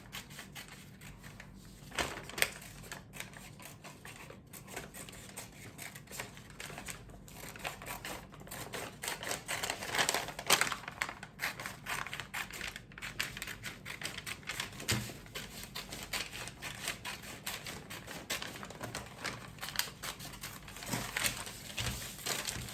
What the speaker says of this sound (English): So I'll just cut this out.